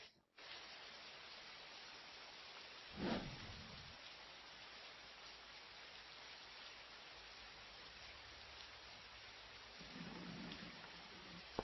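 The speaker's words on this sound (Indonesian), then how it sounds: "Hujannya deras sekali." Heavy rain pours steadily and loudly throughout, a dense continuous hiss with a low rumble like distant thunder swelling briefly early on and another softer surge near the end.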